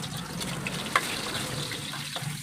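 Garlic sautéing in a hot pan, a soft continuous sizzle with faint stirring and one brief clink, steady and close.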